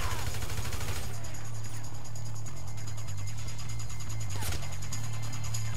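Enemy gunfire in Grand Theft Auto V, rapid loud bursts of shots and rattling automatic fire over a low rumbling bed, with a sharp crack near the end.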